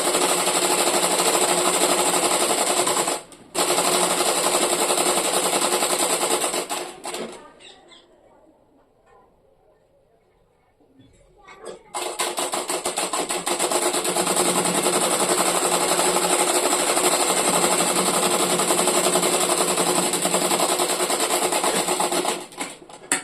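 A sewing machine stitches a folded blouse border in loud, rapid, continuous bursts. It pauses briefly early on, then goes quiet for several seconds before running again at full speed to the end.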